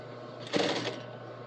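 A sewing machine stitches a seam with a quarter-inch topstitch, a brief close burst of rapid mechanical whirring lasting about half a second over a low steady hum.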